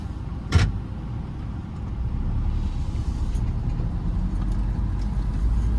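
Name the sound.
car driving on a country road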